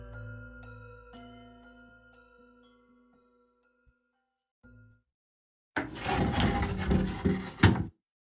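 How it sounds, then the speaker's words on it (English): A wooden door swings open in the winter game Winter Flower, a loud rough creaking scrape lasting about two seconds that comes in alone after quiet music fades. "The east door opened with a creak, snowflakes fluttering in through the doorway."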